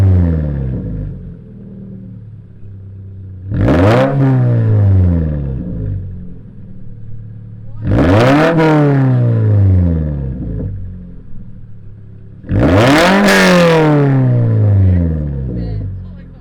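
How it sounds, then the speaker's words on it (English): A Subaru BRZ fitted with a Borla ATAK exhaust is revved three times in short, loud bursts, each rising sharply and falling away, separated by quieter idle, with people talking nearby. "I'm gonna rev this car in her face."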